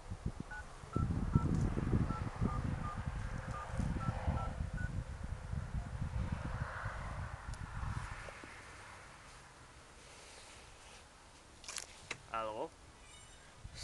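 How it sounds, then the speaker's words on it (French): Telephone number dialed as a series of short, evenly spaced touch-tone beeps over rustling background noise, followed by a few brief clicks near the end. "Maintenant, Amelie lui téléphone."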